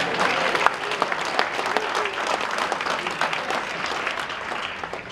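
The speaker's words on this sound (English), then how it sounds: "How about a round of applause for spring?" Luncheon audience at Luther College breaks into steady, sustained applause, dense overlapping claps filling the room at moderate loudness with no speech on top.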